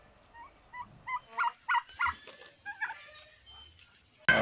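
A rooster with four legs, about 2 kg, kept at a park, gives a short run of soft, close clucks, followed by a sudden louder burst at the very end.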